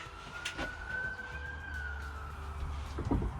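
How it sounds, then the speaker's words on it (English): A siren wails steadily with a slowly rising and falling pitch, moderately distant, over low traffic rumble and background noise. "now we've got a siren"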